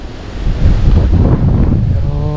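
Strong wind buffets the microphone outdoors near water at a fishing spot, a loud steady roar with gusty surges and no voices.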